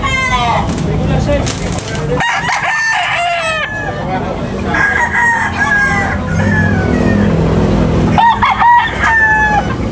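Several roosters crow loudly and repeatedly over a busy background of chickens clucking close by, at a chicken market in Tabunok.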